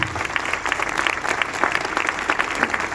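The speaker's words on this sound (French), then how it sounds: "on les applaudit, l'équipe de la maternité" A crowd at an outdoor health-coordination rally in Guingamp applauds the maternity ward team. The clapping is dense and continuous, loud and close throughout, with faint crowd murmur mixed in.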